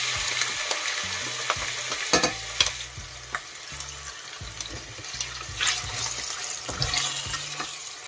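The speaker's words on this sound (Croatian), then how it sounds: "Dodajemo meso i pržimo 10 minuta." Meat fries in oil in a pan over medium heat, making a lively sizzle broken by spatula scrapes and clinks against the pan, with a low hum underneath.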